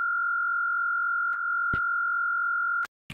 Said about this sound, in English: So basic sine wave going on here.